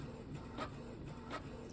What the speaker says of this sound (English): So here's printing.